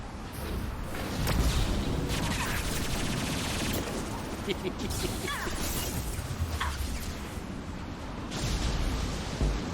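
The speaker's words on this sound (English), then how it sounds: "Watch out, flashbang! Oh no, a flashbang." Gunfire and a flashbang grenade in the video game Mass Effect 2, a loud continuous barrage of rapid shots and bursts filling the whole stretch, with voices talking over the din.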